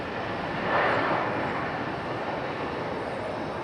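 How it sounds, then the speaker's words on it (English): A JetBlue Airbus A220 airliner taxis at Raleigh-Durham airport with one engine already shut down, a steady broad jet whine and rumble swelling briefly near the start. "Here comes our A220 from JetBlue, making its way around the alleyway."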